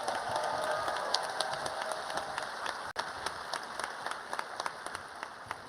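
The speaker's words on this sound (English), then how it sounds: "we're going to give our D's and E's a round of applause" Audience applause at a medical school white coat ceremony, a steady wash of many hands clapping at moderate distance, continuous and even, with sharper individual claps standing out and no talking.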